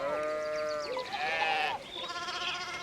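Several sheep bleat in the medieval video game Pentiment, overlapping wavering cries close up, one call after another with no gap and no voices.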